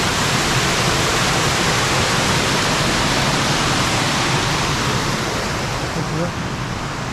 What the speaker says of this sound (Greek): Τρεχούμενα νερά, νερόμιλοι.